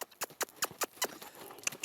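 A horse shifts its hooves during groundwork training, giving a quick run of light, irregular hoof taps close by, about eight clicks in under two seconds.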